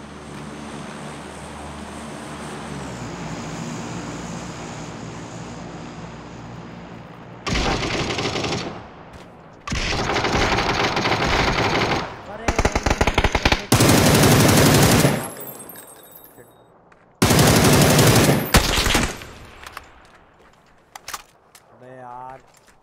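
Bursts of automatic and shotgun fire in the battle-royale game PUBG on PC, loud repeated volleys separated by short gaps over a steady background hum.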